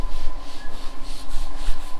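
Steady rhythmic rubbing of sandpaper over filled surfaces during house finishing work, close and fairly loud with even back-and-forth strokes, no voices.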